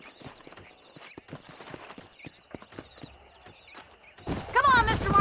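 Horse hooves clip-clop in the Red Dead Redemption video game, steady rhythmic steps under ongoing game dialogue, ending in a louder burst of noise and whinny-like calls.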